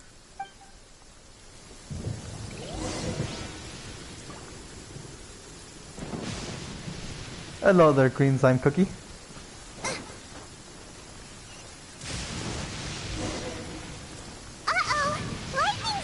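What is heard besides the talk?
thunderstorm with thunder and rain in the video game Genshin Impact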